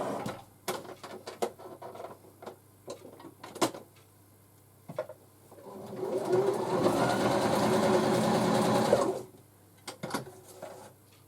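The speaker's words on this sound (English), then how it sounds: "I can just put a zigzag stitch into them and then they're done" A sewing machine runs a zigzag stitch to attach lace onto a handmade journal, first in short clicks and taps, then in a steady whirring run of about three seconds, then more brief knocks.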